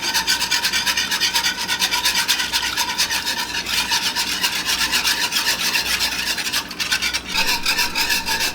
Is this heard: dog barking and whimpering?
no